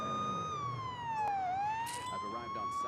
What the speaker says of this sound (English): I put the sirens on too late.